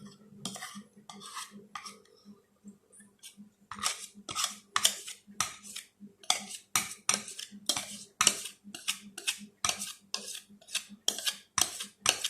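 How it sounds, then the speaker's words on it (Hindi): Homemade fruit cake batter being scraped and poured from a mixing container into a bowl, heard as rapid metallic clinks and scrapes of a utensil against the bowl's rim, close and fairly steady throughout. "जो मैंने मिक्सर तैयार किया वो मैं डाल रही हूँ प्याले में"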